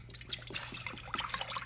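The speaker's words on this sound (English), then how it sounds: "So we're going to pour it into this beaker" Coolant being poured into a beaker during bleeding of a car's radiator cooling system, a close, soft splashing and trickling of liquid lasting under two seconds, with no talking.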